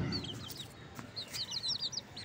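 A caged sparrow gives a few quick, high, bright chirps in short bursts, close by and over a soft background.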